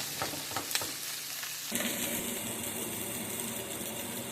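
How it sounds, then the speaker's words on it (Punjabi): Vegetables for egg rolls roasting in a pan over medium heat, a loud steady sizzle with stirring scrapes early, the frying hiss intensifying partway through. "ਆਪਾਂ ਇਹਨੂੰ ਕਰੀਬ 3 ਮਿੰਟ ਵਾਸਤੇ ਕਿਦਾਂ ਰੋਸਟ ਕਰਾਂਗੇ ਤਾਂ ਜੋ ਸਬਜ਼ੀਆਂ ਜਿਹੜੀਆਂ ਸੌਫਟ ਹੋ ਜਾਣ"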